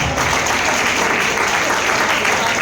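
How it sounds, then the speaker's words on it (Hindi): A large audience at a speech event in Bhagalpur breaks into loud, sustained clapping that fills the whole stretch evenly, with faint voices mixed into the crowd noise. "ढंग से ताली की कमी है, जोरदार ताली होना चाहिए"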